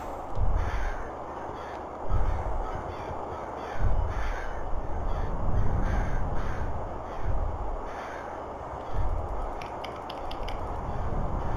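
A big bird caws repeatedly in a video game, loud regular calls about every two seconds over a constant rumbling background.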